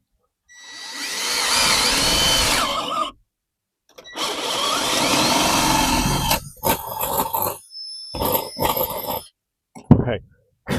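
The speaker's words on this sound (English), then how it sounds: "We're going to just drill 2 holes here." A power drill bores two holes during a 12-volt solar shed build, in two sustained loud bursts of whirring, each lasting a couple of seconds, followed by scattered clatter and brief knocks.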